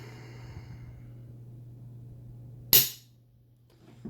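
A velocity trigger breaks with a single sharp, loud click near the end of a quiet stretch, over a low steady background hum.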